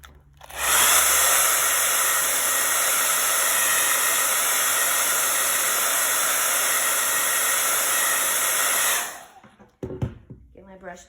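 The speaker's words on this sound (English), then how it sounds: "I'm just gonna hit it with my blow dryer real quick just to be sure" A handheld blow dryer runs at a loud, steady whoosh for about eight seconds as it dries a painting, then cuts off abruptly and is followed by a few clunks as it is set down.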